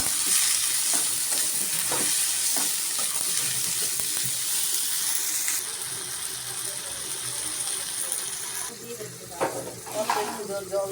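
Turmeric and chilli powder frying in a pan, a continuous close sizzle broken by repeated scraping and clacking strokes of a spoon stirring, busier toward the end.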